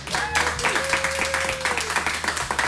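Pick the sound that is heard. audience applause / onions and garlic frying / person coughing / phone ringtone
audience applause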